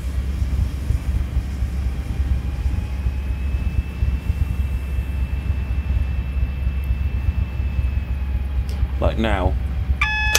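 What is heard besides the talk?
Class 70 train safety system warning beep, Train Simulator 2018 video game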